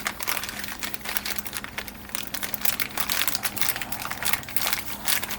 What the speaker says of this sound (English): Well, I can't fight my way into a plastic bag.